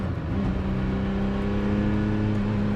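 Ferrari F50 engine under way, a steady droning roar with strong low harmonics holding close and loud, the pitch climbing slightly as the car pulls, with no voices.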